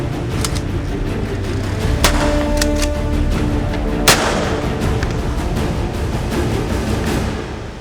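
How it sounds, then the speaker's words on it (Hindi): Sharp gunshots crack out sporadically during a robbery in a village in Punjab, a few louder ones standing out over a constant rumbling, noisy background, with no talking. "और आखिरकार गोलियां चलने लगीं।"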